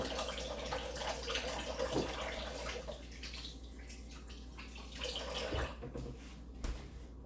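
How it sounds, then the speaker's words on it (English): Tap water runs steadily into a sink as hands are rinsed in a kitchen, a continuous splashing hiss with a few louder splashes and clunks. "let me go rinse my hands off"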